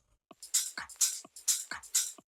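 Tech house drums with a punchy kick and bright crisp hi-hat or clap hits, smoothed by Soothe resonance processing, repeating in a steady rhythmic pattern, clean and close.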